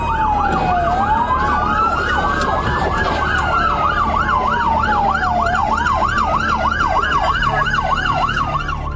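A police car siren wails during a chase through residential streets, loud and close, rising and falling slowly and then switching to a fast yelp over road noise, with a second siren layered in.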